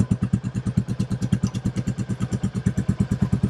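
Close, loud exhaust of a Royal Enfield Classic 350 with catalytic converter removed, at a steady lumpy idle, each firing pulse thumping in an even, rapid rhythm.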